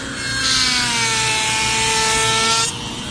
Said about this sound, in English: Sand it all, make sure it's all perfect.